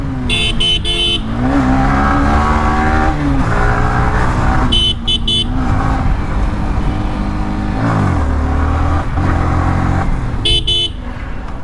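A motorcycle that has just been push-started revs loudly and continuously up close, its engine rising and falling in pitch for several seconds, with short horn-like toots breaking in now and then.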